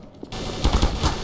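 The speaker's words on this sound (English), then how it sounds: "Why did I get shot?" Rapid automatic gunfire in Garry's Mod roleplay, loud and close, a dense burst of repeated shots following a brief quieter start.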